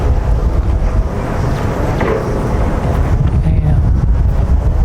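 Strong wind buffets the microphone at a beach in Pagudpud, Ilocos Norte, a steady loud low roar with gusty rumble and no clear talk.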